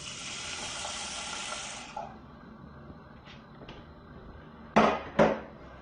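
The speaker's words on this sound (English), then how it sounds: "Experimenting with water in the pot at the sink." Water running from a kitchen sink tap into a pot for about two seconds, then stopping, followed by a few light clanks and two sharper knocks of the metal pot at the sink.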